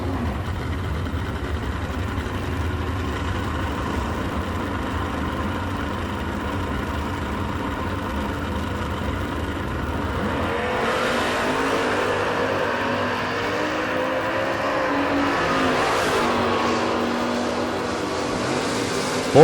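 A 1996 Ford Mustang and a 1967 Chevy Camaro drag race at the Northeast Sportsman Nationals, with engines idling at first, then a loud roar as the cars launch and rev hard, holding strong to the end.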